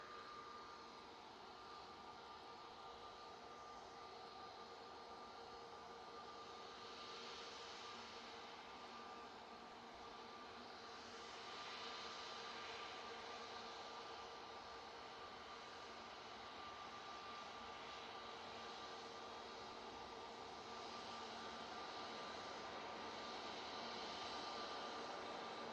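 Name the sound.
turboprop airplane arriving from Belfast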